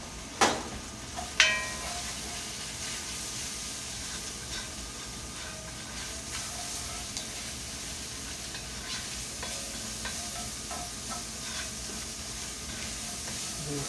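Vegetables seasoned with Creole seasoning sizzle and hiss softly in a pan, with a couple of sharp scraping stirs at the start and occasional light clinks over the steady frying.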